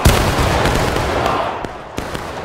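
A volley of musket-style gunfire rings out in a multiplayer skirmish game, a dense burst of overlapping shots opening loud and close, then rolling on as scattered cracks and reports that fade out over a couple of seconds.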